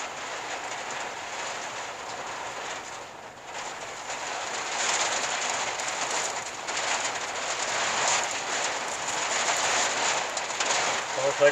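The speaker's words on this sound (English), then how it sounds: "Here comes some rain." Steady monsoon rain in Arizona hisses and patters, swelling louder partway through, with a dull broadband rush and no voices.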